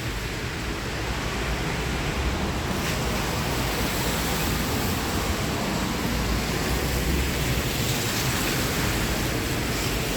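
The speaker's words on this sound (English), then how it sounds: "But it's raining." Steady, dense hiss of rain falling outdoors in autumn, continuous and even for the whole stretch with no voices or other distinct sounds.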